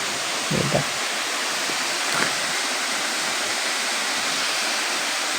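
A constant rushing roar of a waterfall, broad and unbroken, with a faint brief sound near the start.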